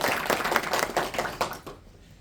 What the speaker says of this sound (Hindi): बच्चों के लिए भी तालियां।